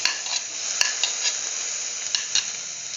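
Shallots sizzle steadily as they are stirred into hot oil for an ash gourd and spinach stir fry, with a continuous close frying hiss and a few sharp clinks of the spatula against the pan.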